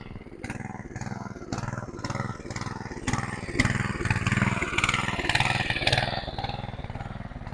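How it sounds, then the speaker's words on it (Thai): A small engine-driven water pump drains water out of a rice paddy. Its steady, close, loud motor chugs with a regular pulsing rhythm throughout, and its pitch rises briefly. "เริ่มสูบน้ำลง สูบน้ำลงนี่เพื่อสิได้ใส่ปุ๋ยได้พี่น้อง"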